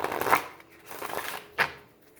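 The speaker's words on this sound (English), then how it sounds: "I'm going to shuffle again." Tarot cards being shuffled by hand, a few soft riffling bursts with short gaps between them, close and fairly quiet with no talking.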